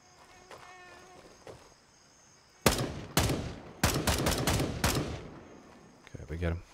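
Gunshots in Grey Zone Warfare ring out as a series of sharp, loud cracks, a few single shots and then a rapid cluster, over a quiet outdoor bed of insect chirps, with a final burst of rustling movement.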